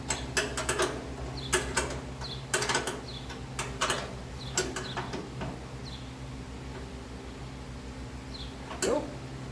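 Ratcheting and mechanical clicking while tightening a part on a 1987 Dodge D100 truck during an oil catch can and starter relay install, short bursts of clicks in irregular groups, close and moderately loud, with no talk.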